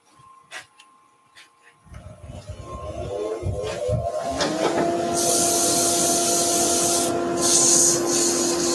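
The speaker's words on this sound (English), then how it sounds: "we'll give that a little bit of a sand." Sanding a wooden Christmas centrepiece: a soft rubbing starts intermittently, then builds into a steady, loud, continuous abrasive whir, like a powered sander running close by with no talk over it.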